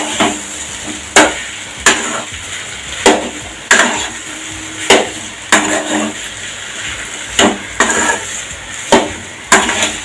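A spatula scrapes and knocks against a pan while potato stir-fry tumbles in oil, striking in a slow, regular rhythm roughly every second, loud and close, with a light sizzle between strikes.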